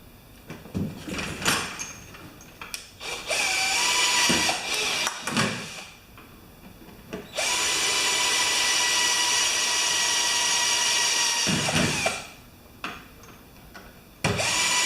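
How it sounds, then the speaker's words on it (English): A power drill bores holes through a sheet of tin in several long, loud, steady whirring runs separated by brief clatter and pauses. "So now we're going to drill the 4 holes through the tin."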